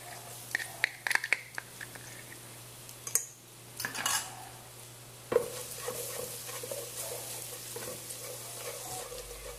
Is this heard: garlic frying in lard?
yes